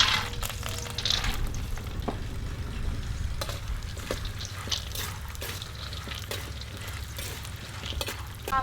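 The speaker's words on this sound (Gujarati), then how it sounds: "અને હવે આપણે તેલ ગરમ થઈ ગયું છે તો પહેલાં દાણા તળી નાખીએ." Peanuts frying in hot oil give a steady, close sizzle with light crackles and occasional stirring scrapes throughout. No one speaks.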